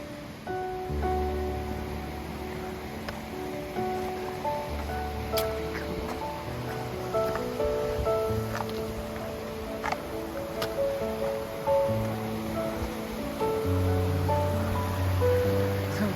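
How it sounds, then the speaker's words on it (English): Waterfall on Cascade Creek along the Colorado Trail, a steady broadband rush of falling water that holds at constant loudness, close and continuous, with no voices. "Waterfall over the edge."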